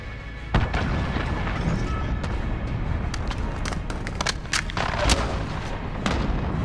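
Cruise missile strikes in Call of Duty: Modern Warfare, a dense barrage of booming explosions and gunfire cracks in rapid succession over a continuous rumbling battle din.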